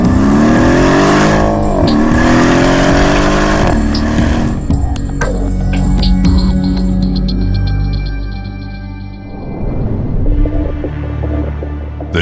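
A Mercedes-AMG 5.5-liter V8 biturbo car engine revs hard and roars, climbing through gears of a 7-speed transmission with a deep growl, then drops off and picks up again, loud and close.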